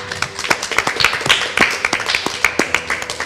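A crowd applauds with dense, steady clapping, loud and sustained throughout, with a few sharper claps standing out.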